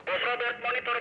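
Mobile phone ringing with a short pulsed electronic tone, repeating in quick bursts, fairly faint and heard alone.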